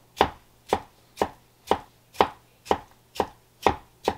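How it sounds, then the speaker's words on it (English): A knife chopping cucumber into small pieces on a board for fish ceviche, with nine evenly spaced, sharp, close thuds about half a second apart and nothing else heard. "Now I'm going to chop the cucumber, cut in small stripes like this."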